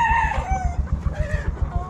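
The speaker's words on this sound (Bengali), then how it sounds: "সব মুরগি" Many chickens cluck in a poultry farm shed, a loud steady rhythm of pulsing clucks with a few higher calls rising over the flock.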